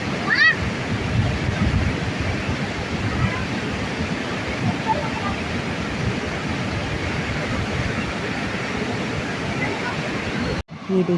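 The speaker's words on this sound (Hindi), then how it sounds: "आइए इस नदी की आवाज़ को सुनते हैं ध्यान से।" A clear mountain river near Rakchham village in Himachal rushes in a constant, dense broadband roar, close and steady throughout, ending with a brief handling bump.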